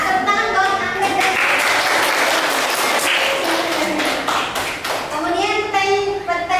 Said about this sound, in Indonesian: Tepuk tangan buat Anggrek.